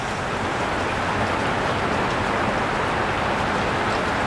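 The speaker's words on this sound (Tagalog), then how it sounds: "Ngayon lang ulit umulan." Heavy afternoon rain pours down steadily in a rural province setting during a thunderstorm, a dense, continuous hiss and patter close by with no voices.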